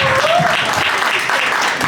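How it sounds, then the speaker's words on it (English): A meet-up audience gives a short burst of applause, brisk dense clapping over about two seconds with a voice briefly audible. "Round of applause for yourself one time."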